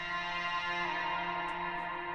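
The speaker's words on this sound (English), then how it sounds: "this vocal synth, I just used a preset. And so with reverb, it sounds like this" A sustained vocal synth preset drenched in long reverb, a steady harmonic drone with stacked tones that holds evenly and loudly throughout with no speech.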